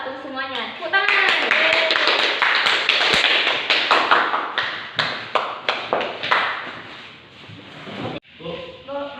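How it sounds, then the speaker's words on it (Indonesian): Students in a classroom clap their hands in a lively round, sharp individual claps that start quickly, then thin out into scattered slaps, with voices talking before and after. "Tepuk tangan."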